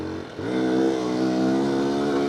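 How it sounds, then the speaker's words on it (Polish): A Benelli BKX 125 motorcycle pulls away hard after a sharp clutch release, its engine note climbing steadily and loud at close range for a couple of seconds. "O, nawet jak się strzeli ze sprzęgiełka, to coś tam ta dupcia potrafi uciec w tym motocyklu."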